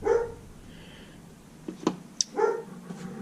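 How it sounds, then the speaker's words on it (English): A dog barks in a short run of sharp barks near the end, indoors, with a faint bark at the very start, while someone works on the water pump of a 1957 Johnson Seahorse 3 hp outboard motor. "I had to yell at the dog to stop barking."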